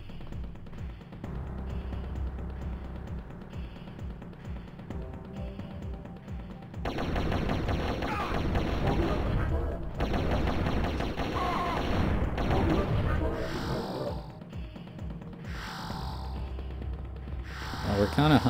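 Shotgun blasts and other weapon fire in Turok: Dinosaur Hunter come as scattered loud bursts over game music and ambience, with a player talking at times.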